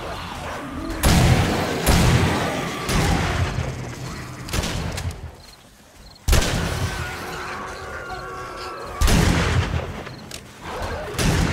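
Shotgun blasts in the video game 7 Days to Die boom loudly at irregular intervals, each a heavy broadband burst with a ringing tail, mixed with game ambience and a few brief voices.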